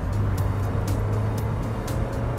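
A Mazda MX-5 roadster engine with a stainless exhaust manifold accelerates, giving a steady low engine drone with a faint rhythmic ticking on top, heard close and alone.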